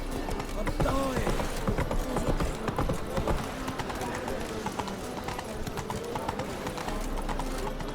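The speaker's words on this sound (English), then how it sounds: "Run, Roach." Galloping hoofbeats of the horse Roach in The Witcher 3 game, a steady rapid clip-clop running throughout with game sounds, while a person talks over it.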